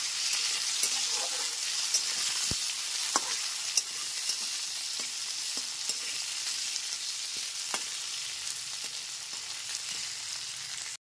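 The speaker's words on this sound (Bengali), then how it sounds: "গ্যাসের ফ্লেমটা মিডিয়ামে রেখে কাঁচকলাটাকে ভেজে নিতে হবে।" Raw banana pieces, cut long like potato wedges, frying in oil over a medium gas flame, giving a steady, close sizzle with scattered pops and crackles throughout, no voices.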